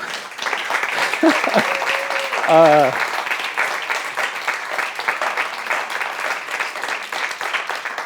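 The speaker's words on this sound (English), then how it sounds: "Can we just clap for those people?" Steady applause from a church audience at a conference session, continuous clapping at a moderate distance with a short spoken phrase partway through.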